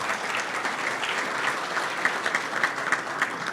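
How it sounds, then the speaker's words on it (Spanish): A crowd claps steadily for a few seconds, a dense patter of many hands with a few sharper claps standing out, no voices. "especialmente un aplauso a la policía de Cali"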